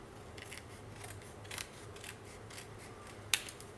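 Scissors trimming a sheet of paper for a pop-up page in a scrapbook album, heard as faint, scattered snips with two sharper cuts near the end, over quiet room noise.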